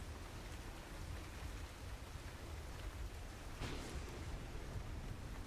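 Nighttime rain falls steadily as a dense background hiss, with a brief swell of heavier downpour partway through. No voices are heard.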